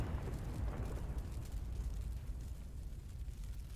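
A sudden explosion in the Shelter video game, a dense low rumbling roar that holds steady and loud throughout with no voices over it.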